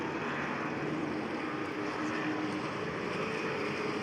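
SCCA race car engines, including Mustangs, grumbling as they warm up around the carousel: a steady, broad, distant murmur of low engine noise with no distinct revs, unbroken and free of talk.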